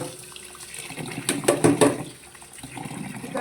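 Homemade bhagar (barnyard millet) being washed in water. Sloshing and splashing swell to a busier burst in the middle, then ease off, with no voices.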